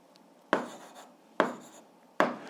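Three evenly spaced, sharp strokes of chalk writing out an algebra solution on a classroom board, each a crisp scratchy tap followed by a short trailing rub, with no one talking.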